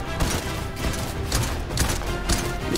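Rapid bursts of gunfire from a weapon in the video game Fortnite, a dense, loud fusillade of shots clattering continuously over a steady game background.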